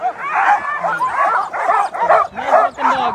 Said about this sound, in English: Nice looking dog team.